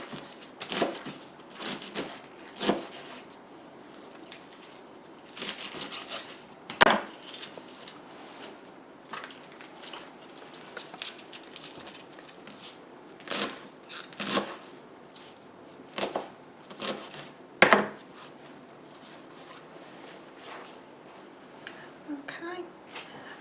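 A knife chops rolled-up collard greens on a board, with irregular bursts of close, crisp cuts separated by pauses and quiet handling noise, and no talking.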